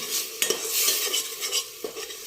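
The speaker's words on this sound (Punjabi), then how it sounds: "ਆਪਾਂ ਇਹਨੂੰ ਚੰਗੀ ਤਰ੍ਹਾਂ ਭੁੰਨ ਲੈਂਦੇ ਆ" Spices for a tadka sizzle in a pan for a homestyle Punjabi chickpea, mushroom and potato sabzi, with a spoon scraping and stirring steadily and a couple of sharper knocks against the pan, close and without talk.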